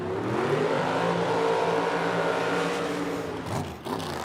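A dragster's engine roars loud and steady through its burnout at a drag strip, a dense harmonic howl that cuts back near the end with a brief drop in revs.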